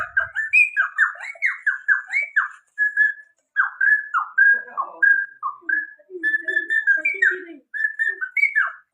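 Oriental magpie-robin (murai) singing continuously and close, a rich run of varied whistles, warbles and squawky notes with only brief pauses between phrases.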